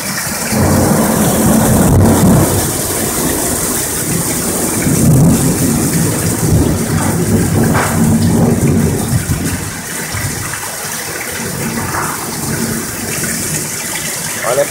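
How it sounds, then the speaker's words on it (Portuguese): Heavy rain pours down in a thunderstorm, a loud, dense, steady roar of water with deep rolling thunder rumbling underneath. It carries on throughout and eases slightly near the end. No one speaks over it. "Tá chovendo pra cacete."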